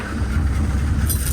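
A boat engine idles beside rocks off a Scottish island, a loud, steady low rumble and throb filling the whole short stretch, with no talk over it.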